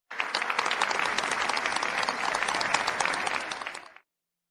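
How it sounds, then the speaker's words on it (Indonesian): A wedding audience applauds loudly to welcome the bride. The dense clapping holds steady for about four seconds and then stops abruptly, with no talking underneath. "berikan tepuk tangan yang paling meriah, untuk menyambut Ibu Jiangzi masuk"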